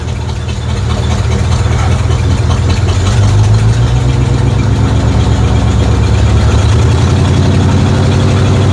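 A truck engine, not yet warmed up, runs loud and steady from a slow loping idle as the throttle opens and the rumble rises slightly and holds, with no talking.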